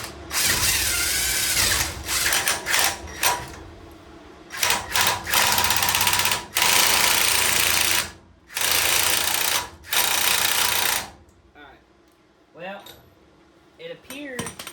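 A pneumatic impact wrench works on a race car wheel hub during an oil leak repair, firing several loud, rattling bursts of a few seconds each with short pauses between them, then falling quiet as a voice speaks near the end.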